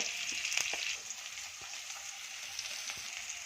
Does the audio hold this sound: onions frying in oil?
yes